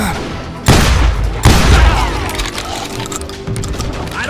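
Two heavy, booming shotgun blasts from Deputy Bob's shotgun in Call of Juarez Gunslinger, close and loud, each followed by a rumbling decay, with a faint third report near the end.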